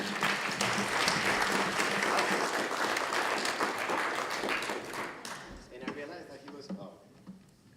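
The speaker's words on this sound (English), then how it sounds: "So round of applause for Aaron." An audience at a Go programming conference talk applauds, a dense burst of clapping that is strong at first and then thins out and fades, with scattered last claps and a little background talk.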